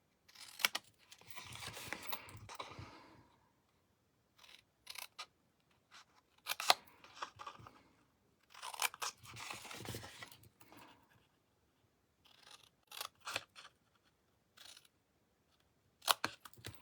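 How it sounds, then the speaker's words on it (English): Scissors snip through paper as the four corners of a scored paper box-bag are trimmed out, in close, crisp bursts of cutting separated by short pauses. "Then we will trim out those 4 corners."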